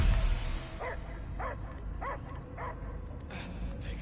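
A dog character in the game Guardians of the Galaxy gives a series of four or five evenly spaced barks and yips, moderately near, over a low ambient game rumble.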